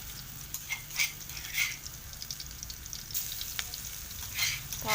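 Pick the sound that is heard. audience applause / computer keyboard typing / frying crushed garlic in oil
frying crushed garlic in oil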